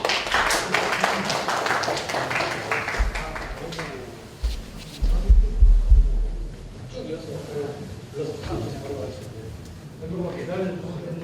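Audience at a company quality competition award ceremony claps after a prize is announced, a burst of applause that swells and fades, with an announcer's voice speaking over and around it.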